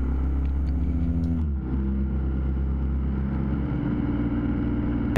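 A BMW R1200GS motorcycle riding through Austria toward the Alps gives a loud, steady engine drone with a brief dip around a gear change, recorded close on the bike, with constant wind rush.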